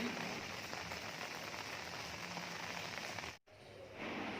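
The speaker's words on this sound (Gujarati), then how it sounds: "અત્યારે હવે વરસાદ તો બંધ થઈ ગયો છે, ખાલી ઝીણા ઝીણા છાંટા આવે." Light rain patters softly and steadily outdoors, a faint, even drizzle with a brief dropout near the end.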